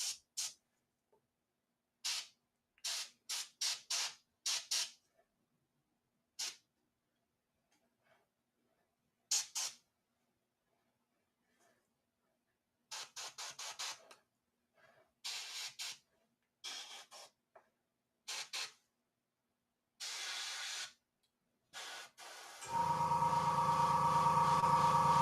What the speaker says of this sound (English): You can use the airbrush to dry off some of this extra paint.